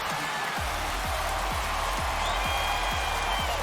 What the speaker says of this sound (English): Crowd in Montreal going nuts.